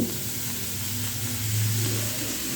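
Egg and onion frying in a pan, a steady broadband sizzle with a low hum underneath, continuous and fairly close, no talking.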